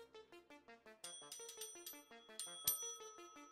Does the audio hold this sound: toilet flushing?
no